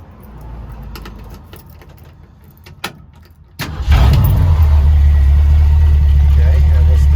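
A car engine cranks and catches, then settles into a steady, loud idle with a low rumble, after quieter background noise and clicks.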